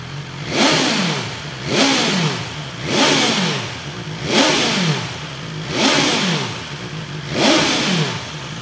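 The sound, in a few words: motorcycle with Akrapovic slip-on exhaust revving to 8,000 RPM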